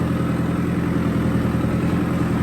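A Digitrac tractor engine working through a flooded rice field while puddling for transplanting, a steady, loud, low rumbling drone close by with no break and no voices.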